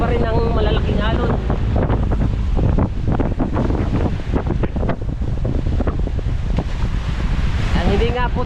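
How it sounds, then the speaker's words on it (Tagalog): Big ocean waves slap and surge around an outrigger boat at sea, under a constant loud roar of wind buffeting the microphone. "talagang ramdam pa rin ang malalaking alon."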